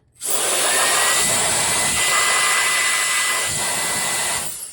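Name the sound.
electric air duster blowing dust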